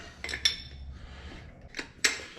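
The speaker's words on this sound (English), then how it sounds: "I lied, the wrench was over here. Just tighten her up." Metal clinks and short ratcheting taps from a wrench tightening bolts while rear air bags are fitted to a 1964 Buick Riviera, as a few sharp close knocks with quieter handling between them.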